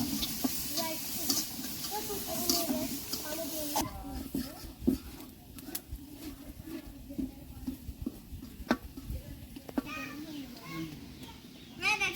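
A lentil mixture sizzles and hisses loudly as it hits hot oil on a village clay stove. The sizzle is strongest at first, then settles into a lower crackle under talking and children's voices.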